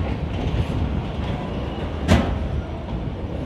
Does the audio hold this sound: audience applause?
no